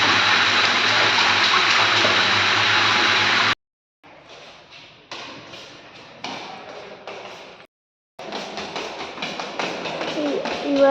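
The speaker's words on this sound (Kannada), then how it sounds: "ಆ ಸೌಂಡ್ ಏನಂದ್ರೆ ಶವರು ಅನ್ನೋ ಟಬ್ಗೆ ನೀರು ಬಿಟ್ಟಿವಿ" Water pours from a shower into a hotel bathtub, a loud steady gush that stops and restarts a few times, with a voice talking over part of it.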